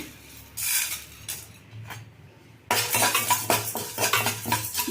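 Urad dal is tipped into hot oil with mustard and fenugreek seeds while making puliyogare gojju, giving a brief pause and then clattering metal stirring against the pan over a light sizzle, close and loud.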